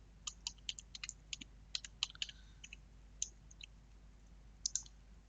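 Quick bursts of typing on a computer keyboard, light crisp clicks in irregular clusters with pauses between, close and alone over a faint background hum.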